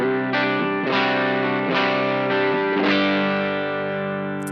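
A clean electric guitar through a Timmy overdrive pedal with a touch of gain plays a few sustained strummed chords that ring out and slowly fade, close and clear.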